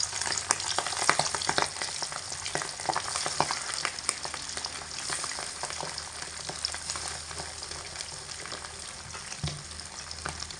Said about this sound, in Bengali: দুবারে মাছের পিসগুলোকে ভেজে নেবো